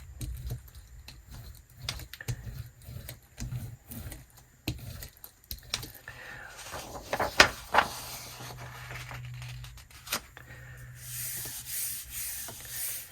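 Paper being rubbed down by hand on a gel plate during a laser print transfer: soft, scratchy strokes recur close up in irregular bursts, with no voices.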